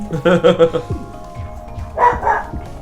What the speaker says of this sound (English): That's my bonus dog.